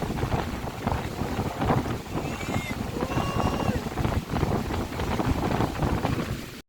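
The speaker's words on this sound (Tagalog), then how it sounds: "Ang lakas ng hangin." Steady wind rushes and buffets the microphone, a constant broadband roar with a few faint tonal whistles and brief voices underneath.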